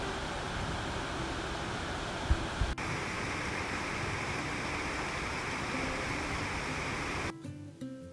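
A waterfall beside a forest road near Mount Rainier gives off a steady, loud broadband rush with no talk over it, cut off abruptly at the end.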